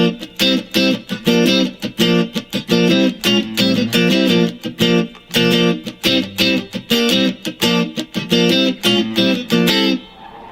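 Electric guitar strums barre chords, played with the ring finger and shifted up a half step and back, in steady rhythmic bursts through a distorted, effects-laden tone, close and loud with no talking.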